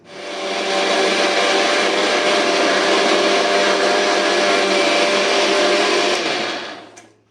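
A mixer grinder powders sugar at home in a loud, steady high-pitched whir that runs for about six seconds, then winds down and stops.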